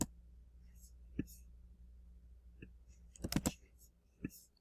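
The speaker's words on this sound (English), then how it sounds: "I'm Command C, Command V on my keyboard just to make it a little bit quicker for me." Computer keyboard clicks during copy-and-paste shortcuts, heard as a few sharp isolated taps followed by a quick cluster of clicks, quiet and close against near silence.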